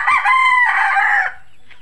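A rooster crows once close by, a loud, drawn-out call of under two seconds that stops abruptly and leaves quiet behind.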